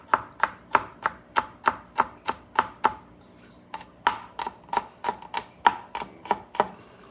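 A knife chops garlic on a board in steady, sharp, evenly spaced strikes, about three per second, close and clear. There is a brief pause midway, and no one speaks while seasoning yellowtail snapper.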